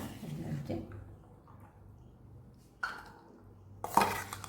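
Chickpea chaat with vegetables is spooned into a serving dish: soft scraping and clinks of a utensil against the bowl, with a few sharper knocks near the end, all fairly faint and close.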